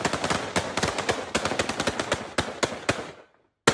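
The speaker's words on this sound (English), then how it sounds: "some of them do just have guns" Rapid bursts of gunfire fired into the air in celebration, sharp cracks coming in quick automatic-style volleys for about three seconds, then a pause and one final loud shot.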